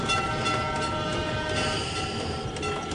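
A tram departs as a sound effect in a Bengali audio drama, giving a continuous, fairly loud rolling rumble with metallic rattling and a faint wheel whine, steady throughout.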